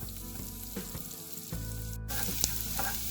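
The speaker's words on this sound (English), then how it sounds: "To a hot pan, I'm going to add butter. Next, add the chopped garlic." Chopped garlic sizzles in butter in a hot pan, a steady, close frying hiss that swells slightly partway through and carries on alone without talk.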